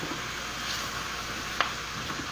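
Mixed vegetables sauteing in a small, crowded pan for vegetarian tacos, giving a steady, even sizzle throughout with one brief sharper crackle partway through.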